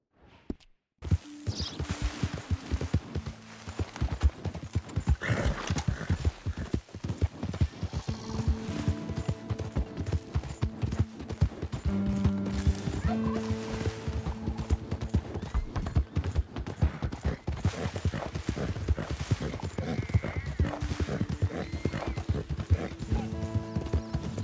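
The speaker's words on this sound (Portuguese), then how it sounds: "Agora vamos correr nessa direção que os cavalos fugiram." Hooves clip-clop steadily from galloping horses in the Red Dead Redemption 2 video game, a fast, continuous rhythm with occasional neighs and whinnies, close and moderately loud, with no talking.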